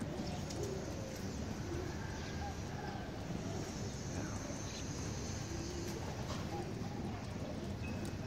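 Young racing pigeons coo inside a loft cage, a steady low murmuring chorus of soft calls that continues throughout, with light rustling and outdoor background noise.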